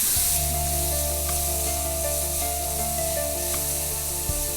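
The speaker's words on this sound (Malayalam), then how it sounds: "അങ്ങനെ അണ്ടിപ്പരിപ്പും കിസ്മിസും വറുത്തത്" Cashews and raisins fry in ghee in a pan, giving a steady, close sizzle that runs the whole time with a constant hiss and faint stirring scrapes, with no voices.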